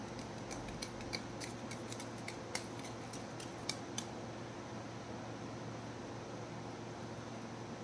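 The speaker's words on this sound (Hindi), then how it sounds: "This is my one and last shuffle." A deck of oracle cards is shuffled in one quiet pass, giving a short run of soft riffling clicks over a steady room hum before the clicks stop.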